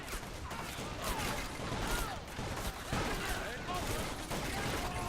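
Massed musket volleys crackle from layered shooting lines in a Civil War battle game set at Kennesaw Mountain, with dense overlapping gunfire and a steady roar of battle throughout, no words spoken.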